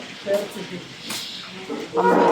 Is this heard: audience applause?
no